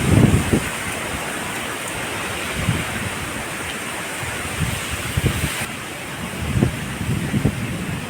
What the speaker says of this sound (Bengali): আমাকে উড়িয়ে দিচ্ছে, এত ঝড় দিচ্ছে, আমাকে এক জায়গা থেকে আরেক জায়গায় নিয়ে চলে যাচ্ছে